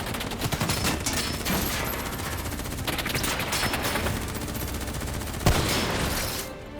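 Dense, continuous gunfire rattles through a Call of Duty: Black Ops III battle, with rapid automatic bursts packed tightly together and one sharper report standing out near the end of the stretch.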